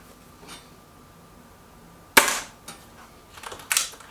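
A Stoeger XM1 Scout air rifle fires pellets at a target outdoors. One sharp, loud crack is followed by a quieter tail, then a second fainter report near the end, over steady background noise.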